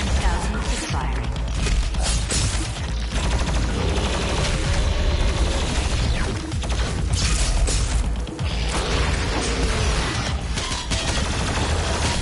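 The BFG 10,000 firing in the video game DOOM Eternal, a loud, unbroken mechanical barrage of rapid rattling blasts and grinding gear-like clatter that fills the whole stretch with only slight dips.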